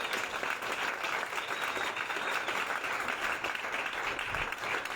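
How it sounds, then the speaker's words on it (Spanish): A church congregation applauds during a sermon, a steady, dense wash of clapping heard somewhat distant and quite soft, without speech. "Dale un aplauso, papito."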